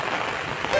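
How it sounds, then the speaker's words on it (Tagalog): Steady rain falling on a garden, a dense, even hiss of drops with no pauses. "Naulan na guys."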